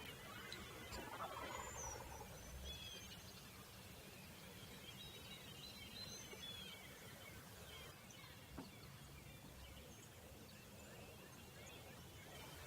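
Wild turkeys gobbling in the field, several birds calling from the southwest, faint and somewhat distant over steady outdoor background noise, with soft hushed talk nearby.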